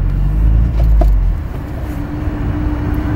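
A car with a NOx emulator fitted is driven while the accelerator is pressed, giving a loud, steady low engine rumble that eases slightly after the first second, with no talk over it.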